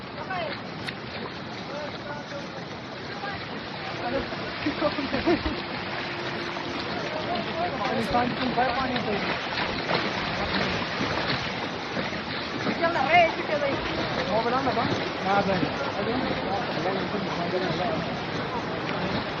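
Floodwater rushes down a street toward a house, a constant broad wash of flowing water under people talking nearby.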